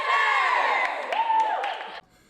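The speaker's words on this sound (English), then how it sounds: "Now take us out with a cheer." Girls' high school sports team shouting a loud unified cheer together, a single sustained burst of voices that cuts off abruptly.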